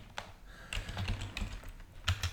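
Keys on a computer keyboard being typed in short, scattered bursts of light clicks and taps, close but fairly quiet, with no voices.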